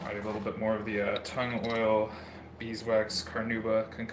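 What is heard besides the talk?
No distinct noise like a dog, phone or traffic.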